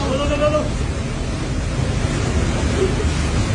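Strong wind and heavy waves batter the navy ship HTMS Sukhothai at sea, making a continuous close roar of surf and wind with a brief voice at the start.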